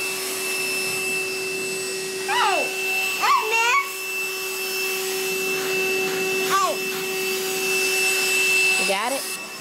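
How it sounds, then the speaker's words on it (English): A vacuum cleaner runs steadily throughout with a constant motor drone, while a voice chirps and calls out several times over it. "There you go, vacuum it up."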